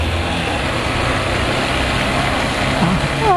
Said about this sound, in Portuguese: Acelera, Ford K.